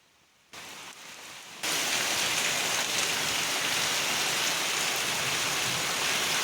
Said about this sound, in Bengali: গ্রামের বৃষ্টি সব সময় সুন্দর হয়। অনেকক্ষণ ধরে বৃষ্টি হয়।